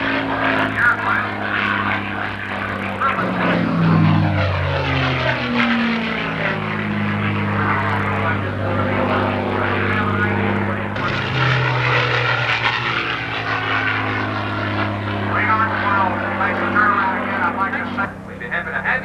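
A North American P-51 Mustang propeller fighter flies at an airshow, its engine a loud, continuous droning roar that rises and falls in pitch as it passes nearby, with a commentator talking over it.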